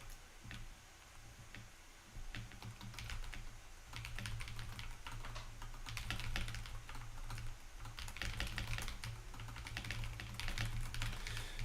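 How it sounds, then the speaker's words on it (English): Loud, clacky mechanical keyboard typing, rapid and uneven bursts of keystrokes close up, continuing steadily with no talking. "Can you guys hear my keyboard, by the way?"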